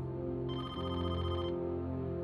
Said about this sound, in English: the phone started to ring